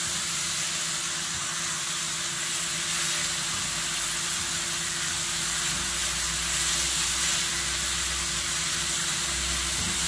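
Liver and spices stir-fried in a pan for a mixed-offal meat dish give a steady, loud sizzle and hiss that runs unbroken throughout, with a low rumble underneath and no talking.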